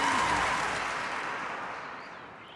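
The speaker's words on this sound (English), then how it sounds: "Round of applause, everyone." A burst of applause, clapping from a group that fades out over a couple of seconds, with no talking.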